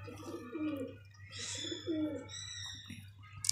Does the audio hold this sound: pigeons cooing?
yes